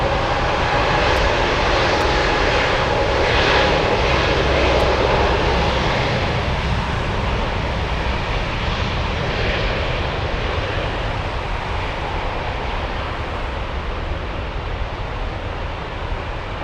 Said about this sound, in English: we're going to go for the takeoff, the one heading to Madrid